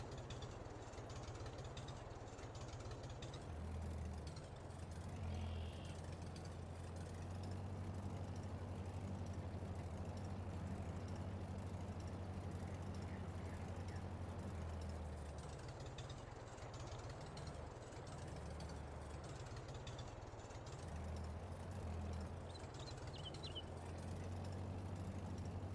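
A tractor engine in the Farming Simulator video game drones low and steady while cultivating a field, faint and continuous with slight shifts in load.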